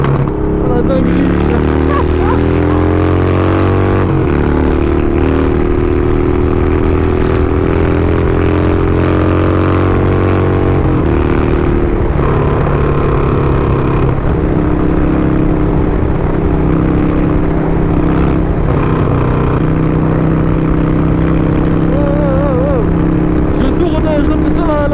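An extremely loud motorcycle, billed as the noisiest in the world, rides and revs continuously, its deep engine drone rising and falling through gear changes, close and dominating, with occasional speech underneath.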